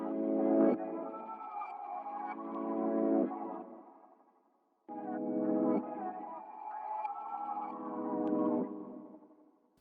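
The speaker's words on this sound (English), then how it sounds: "I actually took our sample and reversed it just for the intro." A reversed music sample in a beat intro, heard as two long swelling phrases of tonal, backward-sounding chords. Each phrase builds and then cuts off abruptly, with a short silent gap between them, no voices.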